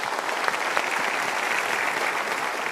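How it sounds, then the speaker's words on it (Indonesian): A talk show studio audience gives sustained applause, many hands clapping in a bright, continuous patter that holds steady and fairly loud throughout. "Good, kita berikan tepuk tangan."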